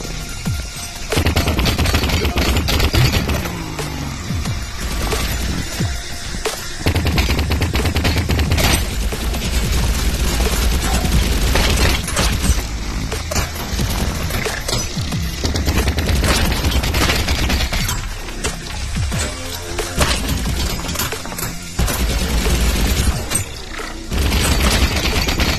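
Rapid gunfire aimed at the player in the VR shooter Vertigo Remastered, dense bursts of automatic shots and booms that run almost nonstop, loud and close, with brief gaps between volleys.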